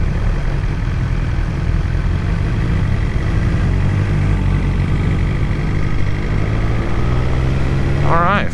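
A BMW S1000XR motorcycle engine drones steadily while riding, a loud continuous rumble with road and wind noise, and a brief rising rev appears at the very end.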